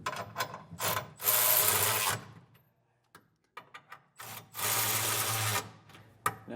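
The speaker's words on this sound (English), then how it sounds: "Once again, we're using our 3/4 inch socket." A ratchet with a 3/4 inch socket snugs down the bolts of a Curt Double Lock flip-and-store underbed gooseneck hitch, two bursts of rapid clicking separated by quiet pauses and a few isolated taps, close and fairly loud.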